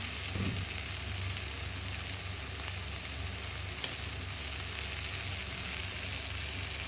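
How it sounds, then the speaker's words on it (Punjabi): Soy sauce hits capsicum pasta frying in a pan, giving a steady, close, hissing sizzle that stays even throughout with no one speaking. "ਇਹਦੇ ਵਿੱਚ ਆਪਾਂ ਸੋਇਆ ਸੌਸ ਪਾਉਣੀ ਆ"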